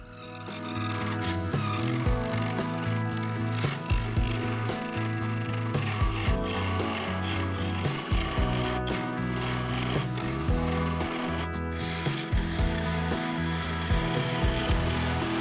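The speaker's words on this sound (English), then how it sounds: "This is a standard cutter and it rips into the waste material, tearing out ribbons of resin to expose the birch underneath." A carbide cutter rips into a resin and birch bowl spinning on a lathe, producing a continuous harsh scraping roar with rhythmic thumps from the uneven workpiece, loud and close.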